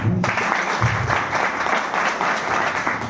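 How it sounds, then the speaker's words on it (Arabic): Audience at a regional children's creative presenter competition in Algeria applauding, a brief burst of sustained clapping that fills the room and continues steadily before tapering slightly at the end. "صفقوا عليها قبل باش نقولكم."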